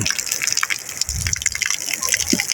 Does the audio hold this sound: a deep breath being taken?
no